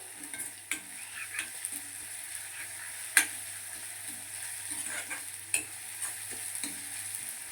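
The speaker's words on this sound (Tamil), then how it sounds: "நீங்கள் இந்த வெங்காயத்தை வந்து ஹை ஃப்ளேம்லேயே வதக்கிக்கோங்க" Onions sauté over a high flame, a steady bright sizzle broken by repeated scraping clicks of a spatula stirring the pan, close and moderately loud.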